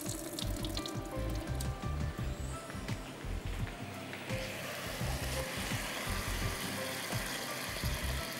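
Water being drained off cooked rice in a kitchen, a steady rushing, splashing pour that runs continuously throughout, loud and close.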